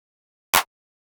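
A single short, bright hand clap drum sample from Logic Pro X sounds once in silence, crisp and quick, then stops.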